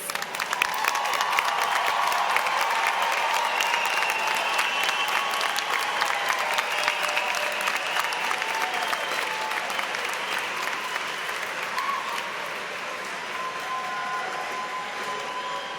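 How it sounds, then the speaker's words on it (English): A large commencement audience applauds the North Central College graduating class of 2024 in a long, dense, steady ovation that fades slightly toward the end, with faint crowd murmur and a few cheers. "Let's give them one more round of applause."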